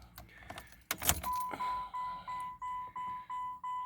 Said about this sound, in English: I'll put the key in